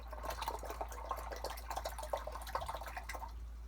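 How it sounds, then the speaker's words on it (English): A watercolour paintbrush swishes and taps in a pot of water, making a soft, quick run of close liquid clinks and dribbles over a low steady hum; no talking. "wash my brush"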